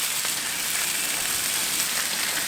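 Sole fish frying in butter on a hot plancha, a steady bright crackling sizzle that holds evenly throughout, close and fairly loud with no talk over it.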